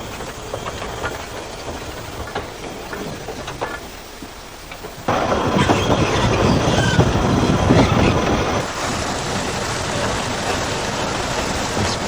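A steam train on the Talyllyn Railway rumbles along with a steady mechanical roar that grows suddenly louder midway, then settles into a continuous noisy rush.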